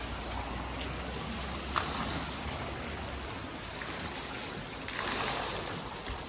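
Water below a jumping spot rushes and splashes in a steady, broad wash of noise, with wind mixing in and no voices.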